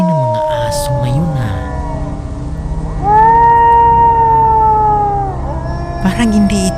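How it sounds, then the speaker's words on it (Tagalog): Dogs howl in long, drawn-out wails, one sustained cry rising clearly above the others, with scattered barks and background noise around them. "Mukhang sobrang ingay ng mga aso ngayon"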